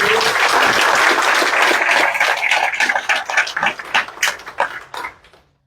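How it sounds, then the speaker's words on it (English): An audience at a county commissioner meeting applauds for Dan Robinson, a loud, dense burst of clapping that holds steady, then thins into scattered claps and fades out. "give him a round of applause"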